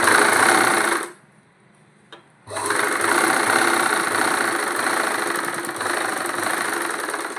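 A sewing machine stitches a Punjabi pant bottom with a loud, continuous motor whir and needle clatter, briefly stopping for about a second in the middle before running on steadily.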